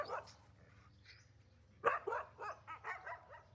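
Village dogs bark near a house, a pack of many dogs sounding off in a scattered burst of yips and barks, faint and some distance away at first, then louder and clustered in the second half.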